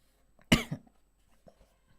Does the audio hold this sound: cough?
yes